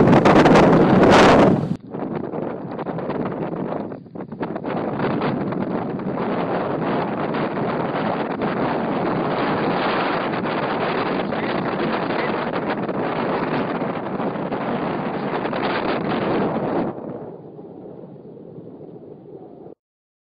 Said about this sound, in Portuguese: Esse é o barulho do vento.